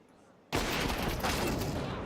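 Gunfire from a Counter-Strike 2 tournament match, likely AK-47 and scoped rifle shots, erupting abruptly after a quiet moment into a dense, loud sustained burst that holds steady to the end.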